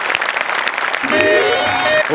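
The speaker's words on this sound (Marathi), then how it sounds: "जोरदार टाळ्या यांच्यासाठी" A live studio audience at a Marathi comedy show claps for performers coming on stage, a loud burst of applause that swells after a short exclamation and carries a brief musical sting under it.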